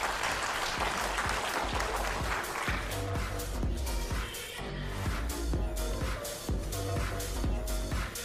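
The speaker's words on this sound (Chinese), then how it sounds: "让我们再次用掌声为他们加油。" Spectators applaud at a 10 m air rifle mixed team shooting final at the Chinese National Games, a sustained, dense burst of clapping filling the hall and holding steady throughout.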